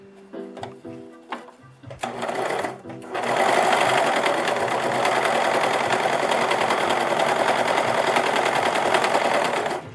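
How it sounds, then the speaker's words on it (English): A serger sewing machine stitches and trims the edge of fabric with a loud, fast, steady mechanical whir. A few short bursts of running open the clip, then it settles into one continuous close drone that lasts to the end. "So now let's serge something and let's see what kind of stitch we got."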